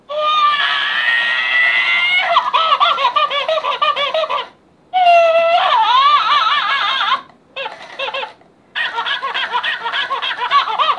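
A toy gorilla cries and wails after its banana is taken away, shrill electronic whoops and sobbing squeals in long bursts broken by short pauses, loud and close with no talk.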